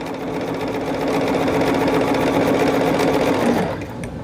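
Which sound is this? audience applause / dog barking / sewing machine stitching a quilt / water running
sewing machine stitching a quilt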